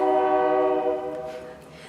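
A train horn blares loudly and steadily as a train passes, its sustained harmonic tone fading somewhat toward the end with rumbling rail noise underneath.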